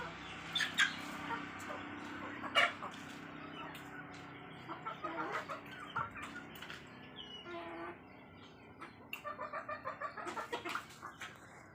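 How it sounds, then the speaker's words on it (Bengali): Native backyard hens on a small farm flock of about twenty-two birds cluck and call in scattered bursts, faint and fairly distant, with a rapid run of clucks near the end and a quiet voice now and then. "এগুলো হচ্ছে আমার খামারের দেশি মুরগি"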